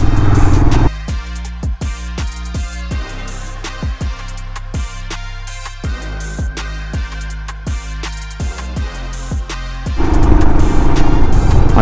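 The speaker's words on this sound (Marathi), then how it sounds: "बघा किती किती किती बायकर आहे, सगळे सुपर बाईक आहेत, सगळ्या सुपर बाईक." A long stream of superbikes rides past one after another, each engine note swelling and dropping as it passes close by, with a steady droning road roar throughout and louder, rougher traffic noise at the start and end.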